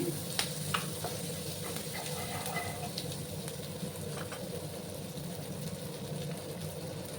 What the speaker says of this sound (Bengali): দিয়ে ভালো করে আমি একটু সময় ভাজা ভাজা করে নিচ্ছি।